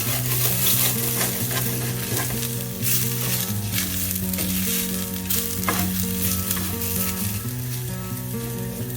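Rice browning in oil in a cazuela gives a steady, loud sizzle with stirring scrapes throughout, under a constant tonal hum.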